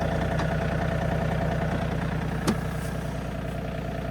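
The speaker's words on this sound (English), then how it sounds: "we got a spreader and a tractor, might as well" Tractor engine idling steadily on a farm where spring wheat is being planted for doves, a continuous low rumble with a faint click partway through.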